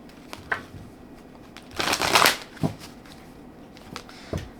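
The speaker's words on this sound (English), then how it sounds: "So I'm shuffling the Wisdom of the Oracle deck" A Wisdom of the Oracle card deck being shuffled in short bursts, with one louder riffling burst in the middle and a few soft taps around it, close and alone.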